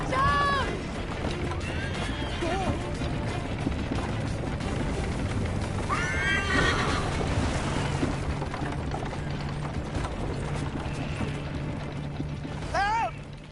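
Horse whinnies and hoof clatter in Assassin's Creed: Liberation, a few rising neighs heard amid busy game noise and shouted dialogue, with mechanical clanking underneath.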